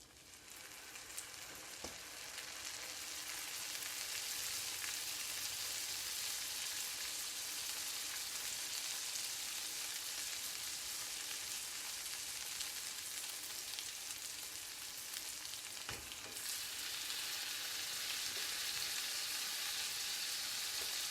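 Stuffed French toast cooking in a pan, a steady, even sizzle that swells after the first couple of seconds, with a couple of brief clicks and no voices.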